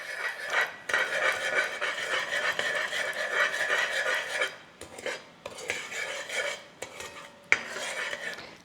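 Mixed nuts being stirred with honey and sugar in a bowl, repeated rattling, clinking and scraping of a utensil in uneven bursts with brief pauses.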